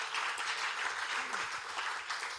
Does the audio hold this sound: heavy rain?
no